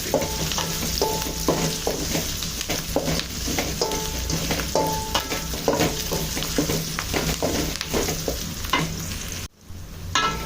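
Onions for onion thokku sizzle steadily in a hot pan while a spoon scrapes and stirs them in repeated strokes, close and continuous, with no talking.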